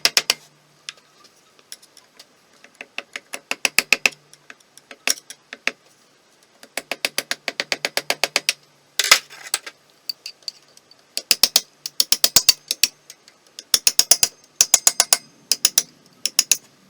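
Wrench ratcheting on engine bolts while dismantling the clutch of a Honda CB350 motorcycle: bursts of rapid, close metallic clicking separated by short pauses, with no talk.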